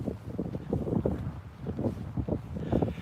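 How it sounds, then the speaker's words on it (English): Wind gusting and buffeting against the microphone, a low rumbling roar that swells and fades in uneven pulses, close and steady throughout. "Ooh, it is windy up here."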